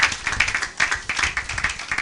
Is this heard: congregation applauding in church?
yes